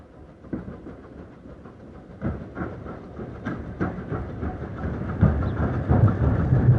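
BR Standard 4MT mogul steam locomotive No. 76017, built at Horwich in 1952, running on the Mid-Hants Railway, with rolling rumble and rhythmic clanks and exhaust beats that build steadily louder as it approaches.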